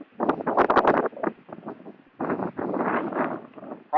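Strong, gusty wind blows outdoors in a garden during seed sowing, buffeting the microphone in loud, irregular bursts with a brief lull in the middle.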